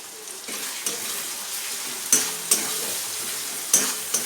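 Cumin powder, turmeric and salt are stirred and sautéed in a pan for a jackfruit seed dal, a soft steady sizzle punctuated by several sharp spatula clinks against the metal.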